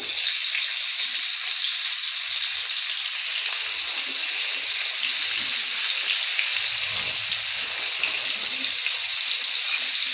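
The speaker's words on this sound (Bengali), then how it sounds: "আমার শুকনো লঙ্কাটা হয়ে গেছে, আমি এবার দিয়ে দিচ্ছি পেঁয়াজ কুচানোগুলো।" Chopped onions drop into hot oil where dried chillies have been frying, producing a loud, continuous hiss of sizzling that holds steady throughout.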